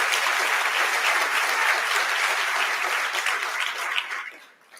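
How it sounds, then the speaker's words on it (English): Audience at a school district State of the Schools address breaking into steady applause, dense clapping that holds loud for a few seconds and then tapers off near the end. "Let's give Karen Saxton a round of applause."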